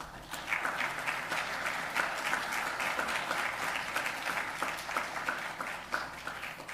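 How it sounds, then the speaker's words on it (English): Audience applause for three panel speakers at a conservation panel discussion, a steady, even wash of clapping from a crowd that holds throughout without pause. "A round of applause for all 3 of them."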